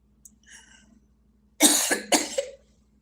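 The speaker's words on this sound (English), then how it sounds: "I don't want y'all to see me have a coughing fit." A couple of harsh, close coughs burst out after a brief soft breathy sound, the second cough following the first within half a second.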